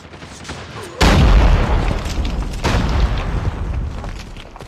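Gunfire in Call of Duty Mobile, a sudden loud burst that is followed by a sustained roar of heavy shooting and a second blast partway through.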